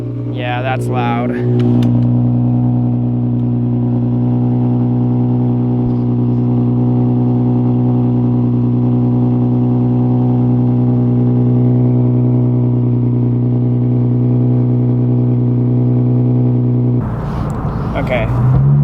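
A Nissan 350Z with a new exhaust fitted with headers and test pipes holds a loud, steady, deep engine drone close by, while a voice speaks briefly at the start and again at the end.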